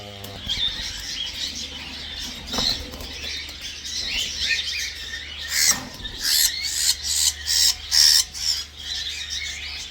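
Racing pigeons flap their wings in repeated loud bursts, growing more frequent toward the end, with occasional squawks and a low background hum.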